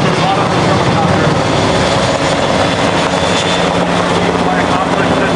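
Helicopter rotor and engine roar carrying a combat raiding craft slung beneath it, motor strapped into the boat, during a special operations exercise demonstration in Tampa, Florida; loud, steady and continuous throughout.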